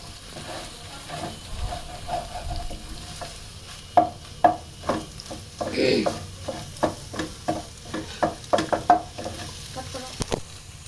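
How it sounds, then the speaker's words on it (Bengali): Egg frying in a pan sizzles steadily while a utensil stirs and breaks it up, making a series of sharp, rhythmic scrapes and taps against the pan at close range. "ডিমটা প্যান দেওয়ার পরে হালকা নাড়াচাড়া করে ভেঙে ভেঙে নেব।"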